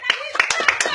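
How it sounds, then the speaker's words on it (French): A small group of people clapping in short, uneven bursts for a president-themed event, four or five sharp claps close by over about a second, with some talk around them. "est-ce que les gens qui se trouvent pas ici peuvent justement montrer leur attachement à Mirabeau avec des applaudissements?"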